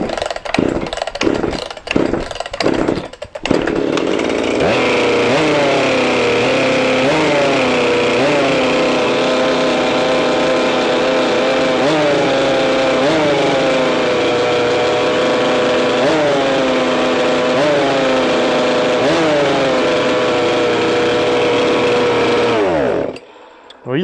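A Husqvarna 257 chainsaw with a freshly ported cylinder runs loud and close, its two-stroke engine starting with several sharp bursts, then droning at a high steady pitch with recurring rev swells before cutting off at the end.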